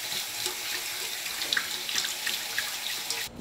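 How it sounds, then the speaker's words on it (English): Cold water runs steadily from a tap over dehydrated pasta in a sink, a continuous splashing rush that stops abruptly at the end. "now it's important to thoroughly rinse these in cold water"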